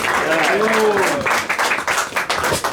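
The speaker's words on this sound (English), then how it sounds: "A big round of applause to Shubhavilas Prabhuji." Applause from an audience after a lecture in Oakville, Ontario, with dense steady clapping and a voice speaking over the start, the claps carrying on strongly to the end.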